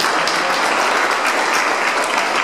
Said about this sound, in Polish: Wielkie brawa za to wszystko.